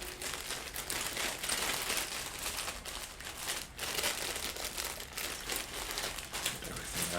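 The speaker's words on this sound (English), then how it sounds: "Just opening up the plastic bags." Continuous close-up crinkling and rustling of plastic, irregular and steady throughout, with no voices.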